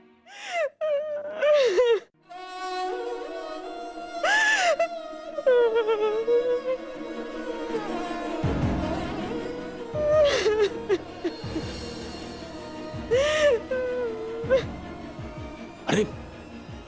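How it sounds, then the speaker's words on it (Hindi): A woman cries and wails in a Hindi TV drama, with sobbing moans rising and falling over about seventeen seconds, gasps between them and music swelling underneath. "अरे ये किसके रोने की आवाज आ रही है?"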